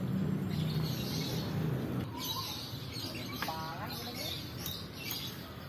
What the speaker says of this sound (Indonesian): Ada suara burung di sini mana?